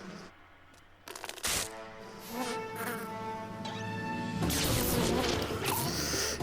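Flash bees from a My Little Pony cartoon buzz with a high whining drone amid a busy animated soundtrack, joined by a sharp hit partway through and a denser, louder buzzing swell toward the end.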